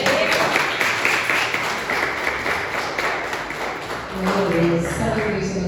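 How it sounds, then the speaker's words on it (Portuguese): A church congregation claps together in a steady, fairly loud round of applause, with a voice speaking over the start and again near the end. "Essa palmas para o Senhor"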